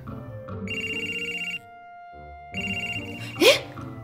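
Telephone ringtone in a Japanese drama scene, an electronic melodic ring playing in two bursts with a short pause between, then a brief sharp non-speech vocal sound at the end.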